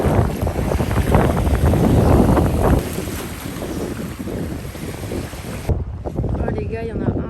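Strong wind buffets the microphone at sea amid big waves with boats nearby, a steady roaring rush that stays loud throughout before the highest hiss briefly thins near the end.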